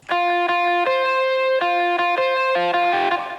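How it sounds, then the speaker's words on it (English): A distorted electric guitar plays a lead melody of sustained, gritty notes stepping between pitches, loud and alone. "This guitar actually has some distortion on it to begin with"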